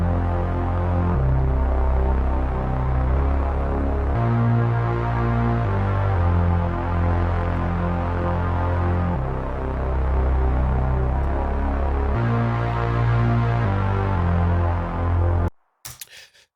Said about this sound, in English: So yeah, next I've decided to move to the bass line,